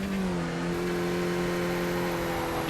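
A race car engine in a racing video game drones steadily at high revs, a loud, continuous buzzing whine with no pauses.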